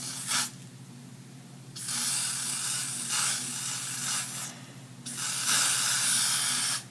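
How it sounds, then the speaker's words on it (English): Short hissing spray bursts from an aerosol can of freeze spray onto a wig hairline, then two longer sustained sprays, close up with a faint background hum. "So what I'm going to do is just spray"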